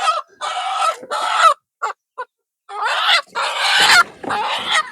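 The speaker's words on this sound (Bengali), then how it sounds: "একটা একটা করে মুরগি ধরবো" Native hens being caught one at a time for Ranikhet vaccination give repeated loud squawks and clucks in close, broken bursts, with short pauses between the outcries.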